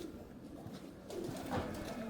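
Pigeons at a pigeon club coo softly in short, low, throaty phrases, faint and close together against quiet background noise, with no voices.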